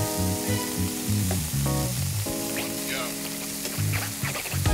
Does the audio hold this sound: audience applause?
no